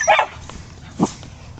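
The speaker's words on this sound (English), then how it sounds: "putting in a bark or two" A Miniature Schnauzer or Boykin spaniel puppy out rabbit hunting lets out a couple of short barks, one sharp yip at the start and a lower bark a moment later, amid outdoor background noise.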